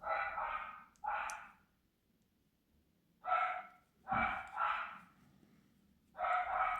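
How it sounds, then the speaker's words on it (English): Several dogs bark in short bursts of two or three barks at a time, separated by quiet gaps, in a home where someone is crocheting a rectangular heart rug for the kitchen. "Dogs are going crazy again."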